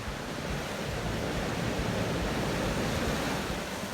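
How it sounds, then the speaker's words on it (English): Pacific Ocean surf rolling onto the California coastline, a steady loud wash of breaking waves with wind buffeting the microphone throughout and no voices. "There's the expanse of the Great Pacific Ocean."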